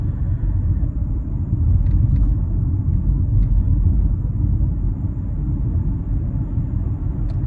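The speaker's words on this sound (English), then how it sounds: "It almost kind of gives me like Subaru Boxer vibes, you know, that sort of very unique four-cylinder, deep character, deep tone." A Mazda CX-50 four-cylinder engine gives off a steady, deep, rumbling drone at close range while driving, with no talking.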